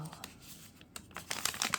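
Crinkly plastic pouch from an Essence advent calendar being torn open and unwrapped, a series of close, sharp crackles and rips that grow louder and denser toward the end.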